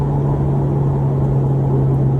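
A 2024 Subaru WRX fitted with an AWE exhaust, cruising on a freshly resurfaced road: a steady, loud low drone with a constant engine hum, no revving or change in pitch, and no one speaking.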